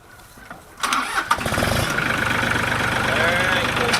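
A few clicks and cranking sounds, then a heavy engine fires up nearby and settles into a steady, chugging idle.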